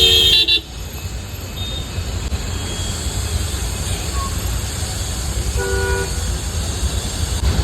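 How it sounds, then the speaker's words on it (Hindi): Heavy city road traffic in Bengaluru, with a steady engine and road roar, a loud horn blast at the start and another string of honks near the end. "Never ending traffic."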